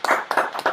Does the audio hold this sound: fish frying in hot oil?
no